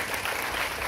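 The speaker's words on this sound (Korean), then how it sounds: "박구영 교수님께 다시 한번 힘찬 박수 부탁드리면서" Audience applause at the close of a lecture, a dense steady burst of clapping from a crowd that fills the whole moment loudly and evenly.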